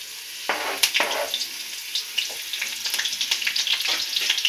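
Green chilies drop into hot oil for gobhi manchurian, setting off close, crackling sizzling that begins with a few bright pops and builds into a steady, busy frying hiss.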